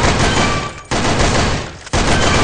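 Loud, continuous automatic gunfire in the video game Sudden Attack during a duck-shooting round, delivered as three long sustained bursts separated by two very short pauses.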